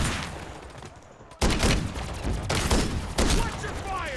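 Rapid bursts of gunfire from a Call of Duty Zombies match crack in loud clusters across the clip, with players talking over the shooting.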